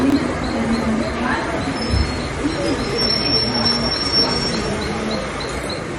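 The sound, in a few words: Mumbai local train running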